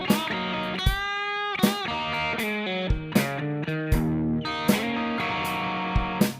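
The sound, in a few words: Guitar solo with drums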